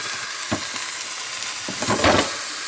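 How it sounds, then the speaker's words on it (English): A burger sizzles in a pan in a steady, loud frying hiss, with a few sharper pops and a swell of spattering near the end. "the burger's slowly cooking, as you can see"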